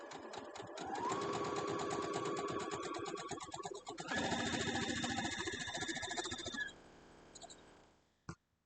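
A sewing machine runs steadily while stitching quilt block pieces, a fast even whir with a higher motor tone, pausing briefly midway, then slowing and stopping with a final clunk.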